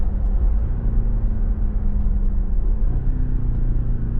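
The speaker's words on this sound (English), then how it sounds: "See how the downshifts are." Steady low engine rumble from a 2019 Cadillac CT6-V Blackwing on the road, with a drop in pitch near the end as it downshifts; loud and close, no talking.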